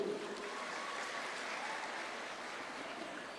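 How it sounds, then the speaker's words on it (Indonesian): A large crowd applauds at the opening of the Badung Education Fair 2026, a steady, dense wash of clapping that holds evenly for a few seconds, heard from some distance in a big hall. "Kita berikan tepuk tangan dulu."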